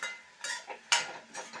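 Tomato, onion and garlic sautéing in a pan, heard as a few soft, separate scrapes and clinks of a utensil stirring against the metal, quiet and close.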